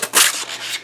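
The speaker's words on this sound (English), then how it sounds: "we're going to take just a piece of sandpaper and kind of sand down the edges" Sandpaper rubbed over the edges of a styrofoam tabletop-terrain fieldstone chimney makes close, loud, breathy scratchy strokes, a couple of rough passes in quick succession with no talking.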